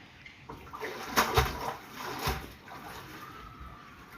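Water pours and sloshes into a household tank that had run nearly empty, a faint uneven rushing with a couple of louder surges.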